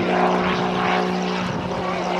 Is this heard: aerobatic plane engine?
yes